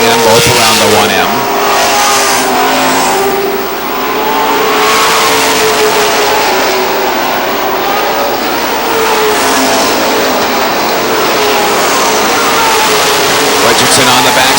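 Race cars circle the track at Lee Speedway in New Hampshire, their engines roaring loudly and steadily as the pack passes close, while an announcer calls the action over the din.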